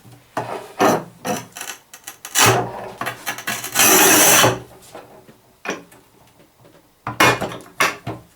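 A Haisser Industry 730 mm manual tile cutter scores across a tile set for a 5 cm cut. The scoring wheel makes a series of close, rasping scrapes in irregular bursts, with brief pauses between strokes and no speech.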